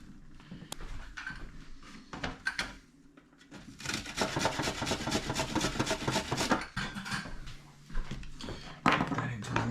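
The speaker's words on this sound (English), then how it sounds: "Then I'm going to get out my box grater" Food rubbed against a box grater in a steady run of close rasping strokes through the middle and end of the clip, with quieter handling noises and soft kitchen sounds at the start.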